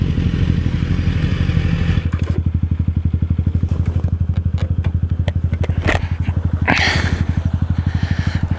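A motorcycle engine idles close by with a loud, steady, rapid low throb and a faint mechanical clatter running throughout, and no one speaks.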